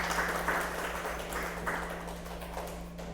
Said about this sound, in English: Give DeAnna a round of applause.